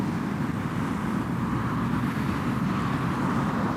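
A DJI Mini 4 Pro drone flies at full throttle, its steady high-pitched motor and propeller whine mixed with rushing wind noise, constant and close throughout.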